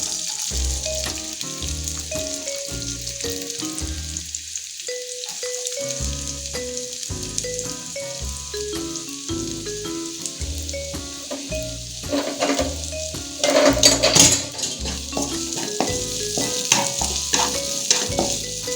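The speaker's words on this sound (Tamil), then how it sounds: "ஃபஸ்ட்டு நான் வந்து வெங்காயம் போடுறேன்." Onions dropped into already hot oil for gobi manchurian sizzle and fry steadily, a bright continuous hiss running under background music with no talking.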